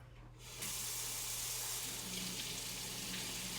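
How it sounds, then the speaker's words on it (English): Tap water runs into a kitchen sink while waiting for it to turn hot, starting abruptly after a quiet moment and then pouring in a steady, even rush close by. "So I'm waiting for the water to get hot."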